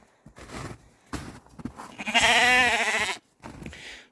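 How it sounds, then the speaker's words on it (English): A sheep gives a long, loud wavering bleat up close, with a few shorter bleats and small movements of the flock around it. "Hello, sheep."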